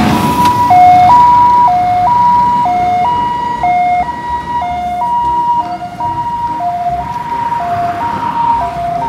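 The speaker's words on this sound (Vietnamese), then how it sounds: "Ambulance." A toy ambulance siren wails in a loud, steady two-tone pattern, alternating high and low notes evenly throughout, close and alone with no talk over it.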